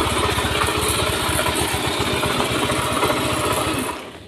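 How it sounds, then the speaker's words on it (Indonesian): A Honda Beat fuel-injected scooter engine, suffering a lost 12-volt supply, runs after being kick-started, giving a loud, close, steady putter at idle that drops away at the very end. "Nah sekarang kita engkol lagi. Nah, hidup."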